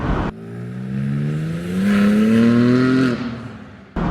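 A modern BMW M3 accelerating under turbo boost, its engine note rising steadily through the rev range, loud and close from inside the car, then dropping off sharply at a gear change.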